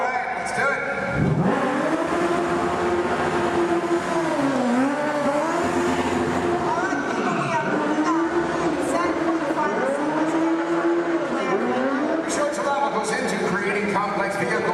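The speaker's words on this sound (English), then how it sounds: "Complex vehicle stunts." Stunt cars race through a Disney vehicle stunt show, engines droning loud and steady with shifting revs and occasional tire noise, while an announcer talks over the action.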